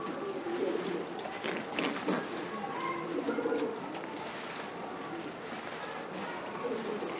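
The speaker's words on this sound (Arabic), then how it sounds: "ده حمام خليط ما بين الكينج وما بين الرميات للاكل عشان اكل منه." Pigeons of mixed King and Rumi breeds, kept by a breeder in Cairo, coo steadily in a low, overlapping murmur, with faint chirps and distant voices in the background.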